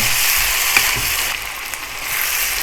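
Ginger-garlic paste and tomato fry in a pan for spiced masala gosht, a loud, steady close sizzle with a few faint stirring knocks.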